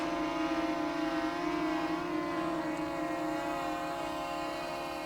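A small DJI Mini 3 Pro drone hovering with an Insta360 X3 camera mounted on top, its propellers giving off a steady, continuous whine with layered tonal hum, close and unchanging throughout.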